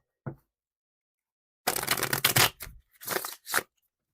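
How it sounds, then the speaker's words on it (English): Tarot cards shuffled by hand in a few brisk bursts: a short tap, then a longer riffle and two quick follow-up shuffles, close and fairly quiet. "One more good shuffle."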